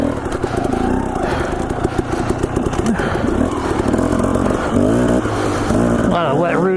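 A dirt bike engine works hard along a technical trail of wet roots near Stanley, Idaho, droning steadily close by with a labored tone and a sharp rev toward the end.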